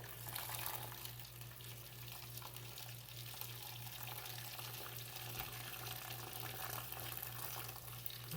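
Melted soap base pours fast and steadily in a continuous splashing stream, directed with a spoon while making campfire coffee soap, with a low hum underneath and no talking.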